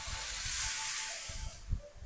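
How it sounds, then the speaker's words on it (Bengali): Water is poured into a pot of fried rice for pulao, giving a steady hissing, steaming sizzle that fades slightly toward the end, close and fairly quiet, with no voices. "চালটা ভাজা ভাজা হয়েছে, তো এখন আমি পোলাওতে জলটা দিয়ে দিই"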